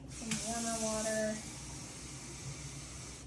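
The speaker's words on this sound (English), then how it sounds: "So it's in there, it's starting to fizz." Cleaning tablet for an espresso machine fizzing as it dissolves in warm water, a steady close hiss running throughout, with a brief voice-like tonal sound over the first second.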